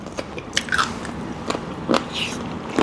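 Close, loud crunchy bites and chewing of spicy Thai chicken feet salad, the crisp blanched feet cracking in several sharp bursts over a few seconds, with no talking.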